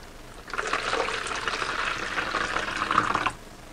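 Warm water being poured for French bread dough, a steady close splashing stream lasting about three seconds, starting and stopping cleanly.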